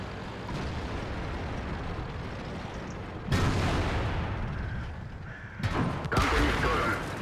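Tank cannon rounds slam into a player's tank in World of Tanks, two sudden heavy booms arriving in quick succession a couple of seconds apart over a steady rumbling game soundscape, loud and close.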